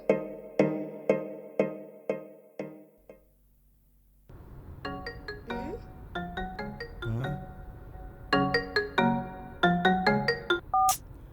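A phone call to a mother: a tonal dialing ring repeats in evenly spaced pulses, then a sequence of bright beeping tones and melodic ringtone notes follows over a low background hum, fairly close and clear.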